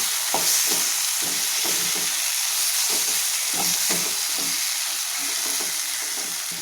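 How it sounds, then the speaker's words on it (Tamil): Masala powders frying in separated oil in a pan, a continuous bright sizzle with regular stirring scrapes and clicks at a steady rhythm, close and fairly loud, no talking. "நம்ம எண்ணெய் பிரிஞ்சு வந்தது இல்லைங்களா, அதுலேயே இந்த மசாலா பொடியெல்லாம் நல்லா ஃப்ரை ஆகணும்"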